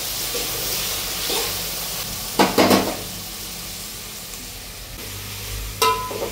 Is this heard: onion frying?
yes